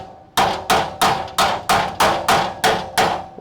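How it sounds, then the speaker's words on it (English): Car body panels on a crew cab Charger under restoration are hammered into contour: eight loud, evenly spaced metallic blows, each ringing briefly before the next, with no talking. "I just had to hammer these into the contour"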